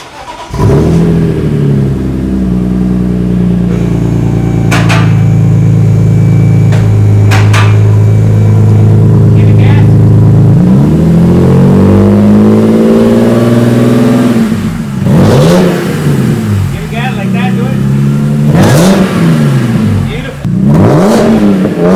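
BMW E46 M3 engine starting for the first time after leak repairs, then revving in repeated sharp rises and falls, loud and close, with clanking noises in between.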